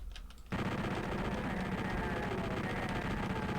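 Chaingunner enemies open fire in PlayStation Doom, a dense, continuous rattle of rapid gunfire that starts abruptly and stays loud to the end, with a brief quieter stretch before it.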